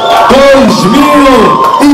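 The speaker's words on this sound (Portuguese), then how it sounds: "Uma salva de palmas e as famílias" A crowd cheers and whoops loudly at the Miss Belas 2016 beauty pageant gala, with raised voices carrying steadily through the whole two seconds.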